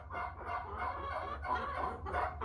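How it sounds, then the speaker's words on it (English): Several American Bresse hens in a breeding pen cluck and murmur continuously at moderate volume, their overlapping calls forming a steady, rhythmic chorus with no talking. "Pretty sure these are the original 4 hens."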